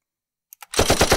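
M60 machine gun on full automatic from a sound effects library: two short faint clicks, then a loud, dense burst of rapid close shots that carries on to the end.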